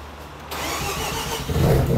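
A car engine cranks briefly and catches, quickly settling into a loud, close running rumble over about two seconds.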